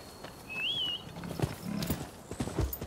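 Horse hooves clip-clop in the Rise of the Ronin video game, a steady run of fairly close, moderate hoofbeats with a brief whinny-like tone early on.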